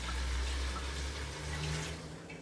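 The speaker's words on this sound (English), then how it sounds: "I'm gonna add some water to this" Water poured into a cooking pot for Jamaican curry cow foot with beans, a brief steady gushing stream heard close and fairly quiet, with no voices.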